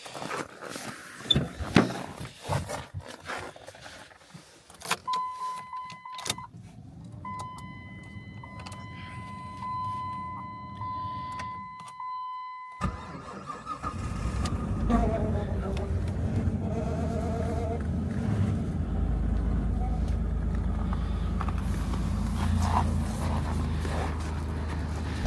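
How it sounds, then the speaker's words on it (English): A Jeep engine cold-starts in freezing weather at about -25°C. Scattered clicks and a sequence of electronic chime tones come first, then the engine catches and settles into a loud, steady low rumble for the rest of the clip. "That was the coldest start I've ever had on this Jeep."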